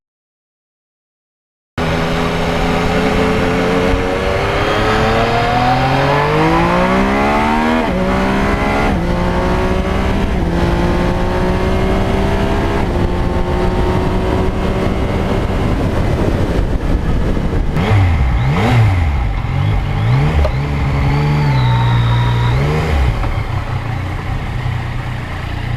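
A motorcycle cruises home on the Route 80 highway, its engine droning loud and steady for the whole stretch, with the pitch rising and falling through gear changes and some sweeping passes toward the end.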